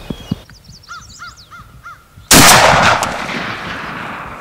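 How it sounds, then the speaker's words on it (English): Crows caw repeatedly in the distance during a turkey hunt, then a single loud gunshot cracks nearby and rolls off in a long fading echo. "Nice shot."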